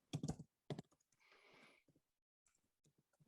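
Someone types quickly on a computer keyboard close by. Dense bursts of clicking keys are separated by short pauses, and no one speaks.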